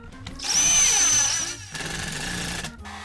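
A heat gun blows hot air onto leather being shaped for a custom tool pouch in a workshop. A loud, steady whooshing roar with a thin high whine drops off briefly at about 1.6 seconds, then resumes before cutting out near the end.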